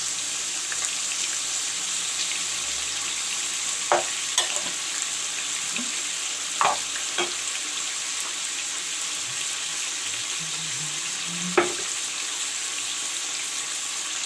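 Pumpkin pieces fry with turmeric in a pan, giving a steady, dense sizzle that runs throughout. A few sharp clinks and scrapes of a utensil break through near the start, the middle and the end.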